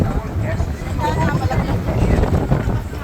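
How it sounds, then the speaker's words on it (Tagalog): Gusty wind near a Ferris wheel buffets the microphone in a constant low roar, with faint voices murmuring underneath. "Lakas pa naman ang hangin, o."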